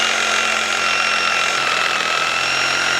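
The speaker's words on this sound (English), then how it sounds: "So it's definitely cutting" A Sawzall reciprocating saw fitted with a metal blade cuts through a roll of tin, giving a loud, steady, close-up buzzing rasp with a harsh metallic edge that runs unbroken for about three seconds, with no voices.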